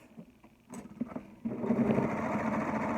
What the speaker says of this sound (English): You're serging it together, turning it right side out, folding it in half